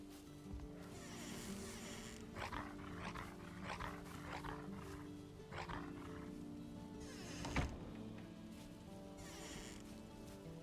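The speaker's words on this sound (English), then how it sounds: "Some doggies come out." Wolves or dogs in the game Valheim, howling and snarling in a cluster of overlapping animal cries set against a constant ambient bed, with a louder burst near the end.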